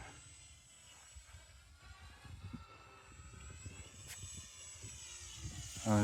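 A small UMX Beast 3D radio-controlled plane flies overhead with a steady electric whine that rises and falls faintly as it manoeuvres, heard at a distance outdoors with no talk.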